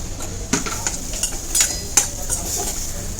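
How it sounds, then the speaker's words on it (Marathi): Red chilli, turmeric, coriander-cumin powder and garam masala are stirred in a pan, with a low sizzle under repeated sharp scrapes and clinks of a spoon against metal at an uneven pace. "मसाले लाल तिखट हळद धना जिरा पावडर गरम मसाला छान परतून घेऊया"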